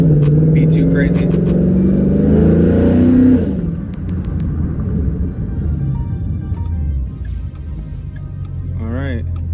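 A 2011 Mustang GT fitted with Select Shift pulls away from a stop in first gear on a wet road, loud rising engine note for a few seconds before easing into a lower, steady rumble.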